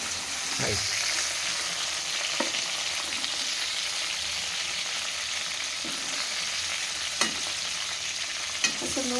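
Okra frying in oil gives a steady, moderate sizzle, broken by a few brief clinks of a spoon stirring in the pan.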